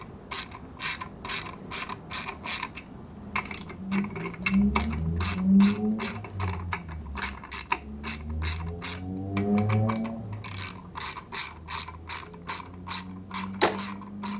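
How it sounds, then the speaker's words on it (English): A ratchet wrench torquing down bolts on a Suzuki DR650 clutch basket, with rapid clicking in repeated close bursts and short pauses between them, plus a low groaning tone through the middle. "you don't get some sort of weird torque factor as you're torquing them down."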